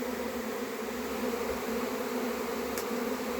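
Honeybee swarm buzzing around a hive, a dense continuous drone of many bees that holds steady and moderately loud throughout.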